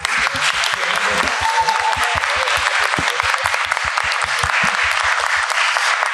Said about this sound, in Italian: fare un altro applauso